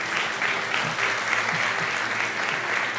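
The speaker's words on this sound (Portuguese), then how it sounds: "Você pode aplaudir essa palavra" A church congregation applauding during a sermon, a dense, steady wash of clapping that fills the room evenly for a few seconds.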